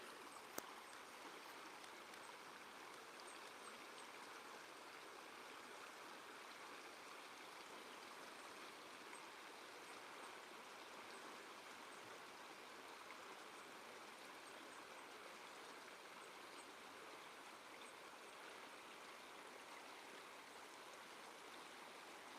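River water flowing in waves, a faint, steady rushing wash like a stream, unbroken and without voices for the whole stretch.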